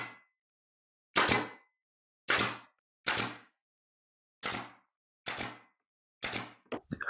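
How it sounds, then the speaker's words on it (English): A pin nailer fires into glued wooden trim, about seven sharp separate shots spaced roughly a second apart, close and loud with silence between, ending in a few quicker clicks. "Okay, so let's glue and pin nail this."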